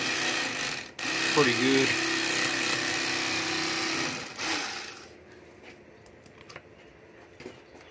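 An electric fillet knife buzzes steadily while trimming red meat from a flathead catfish, a loud continuous motor whine that cuts off midway and leaves quiet handling noises, with someone speaking briefly.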